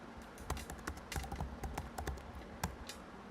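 Keys clatter on a computer keyboard as text is typed, an uneven run of quick close clicks and taps with short pauses between bursts.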